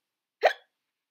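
A voice imitates a single hiccup while reading a children's story aloud, one short sharp vocal burst alone in quiet.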